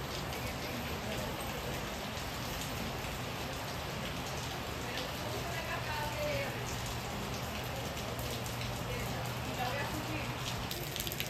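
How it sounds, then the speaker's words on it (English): Heavy rain pours down in a dense, unbroken roar that stays constant throughout, with faint voices buried beneath it. "look at how much rain we're getting"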